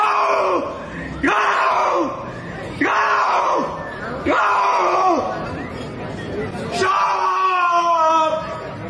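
A man lets out a series of about five loud, drawn-out war cries, each a raw shouted yell that falls in pitch, separated by short breaths, with crowd noise in the background.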